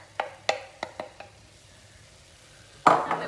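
Onion and carrots go into a hot pan for a beef lasagne: a few light clicks and taps of a utensil, a quiet pause, then a sudden loud burst of sizzling as the vegetables hit the oil.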